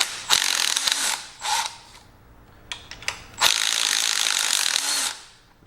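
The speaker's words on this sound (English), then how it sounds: "And we can get all these bolts out." A ratchet wrench spins out engine head bolts on a 1949 Allis Chalmers B tractor, producing loud, close bursts of rapid clicking separated by brief pauses and metallic clinks.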